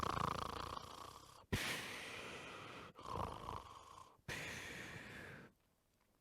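A storyteller imitates a character falling asleep, giving three long, close snores one after another with short pauses between them and then trailing off into quiet.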